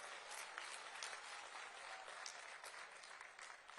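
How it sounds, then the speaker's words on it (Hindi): A crowd claps to welcome Chief Minister Shivraj Singh at the Sant Ravidas Mahakumbh gathering, a dense sustained wash of applause from many hands, even and continuous throughout. "मैं आप सबसे चाहूंगा कि ताली बजाकर हमारे यशस्वी मुख्यमंत्री आदरणीय शिवराज सिंह जी का स्वागत करें"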